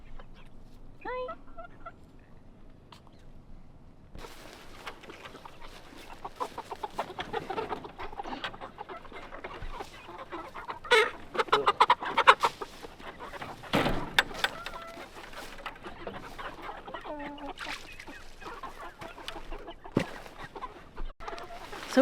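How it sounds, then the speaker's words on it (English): Meat chickens about two and a half months old cluck and squawk intermittently on an off-grid property, with scattered calls near and far over a quiet outdoor background. "we've got the meat birds"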